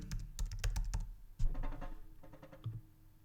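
Typing on a computer keyboard while searching for a Visual Studio Code plugin, with a quick run of close, crisp key clicks followed by a few slower, softer taps.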